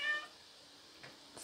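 A house cat gives one short, faint meow indoors at the very start, followed by quiet room tone.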